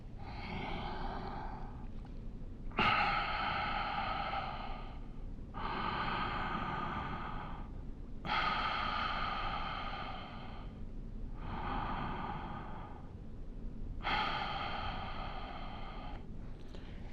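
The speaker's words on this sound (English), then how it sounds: "Recovering that breathing." After a set of pushups, a person breathes heavily from close by in slow, regular cycles of deep inhales and exhales, with brief pauses between them and nothing else heard.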